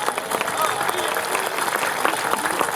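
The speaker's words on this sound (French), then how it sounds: "Oui, vous pouvez l'applaudir." A crowd at a political rally in Bellegarde breaks into sustained applause, a thick, steady roar of clapping lasting the whole few seconds.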